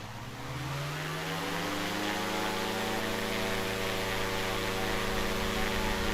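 Engine of an aircraft in a flight simulator game, throttled smoothly up to full for takeoff: a steady, droning roar with a tonal hum that climbs in pitch during the first second, then holds constant and even throughout.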